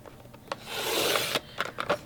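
Paper being trimmed to size on a cutter for a card layout, a single drawn-out rasping slide of the blade lasting about a second, with a few short scraping taps before and after, close and fairly quiet.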